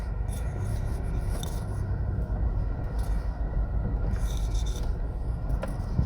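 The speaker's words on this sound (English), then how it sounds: "there you can see the engine pulling out" A train engine pulls out of Old Harbour station in Jamaica, giving a low steady rumble with some scraping and grinding on top, heard from nearby without talk.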